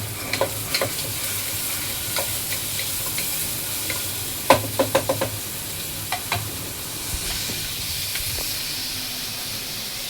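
Chopped onion sizzles and hisses steadily in a hot pan, a constant frying crackle with occasional sharp clinks of a spoon stirring against the metal.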